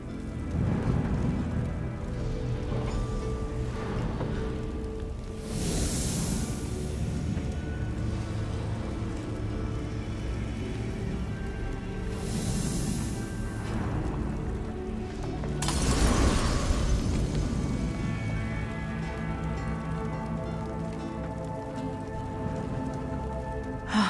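Steady rain pours in a thunderstorm in the video game The Elder Scrolls Online, with a continuous hiss broken by a few loud rumbling thunder crashes, under a low game music bed.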